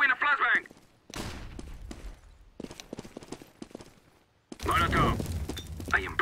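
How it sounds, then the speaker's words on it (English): In a CS:GO match, a flashbang grenade goes off amid other gameplay: sharp, loud broadband bangs and a dense burst of gunfire-like noise between stretches of quieter activity, with voices talking near the start and end. "I am throwing a flashbang!"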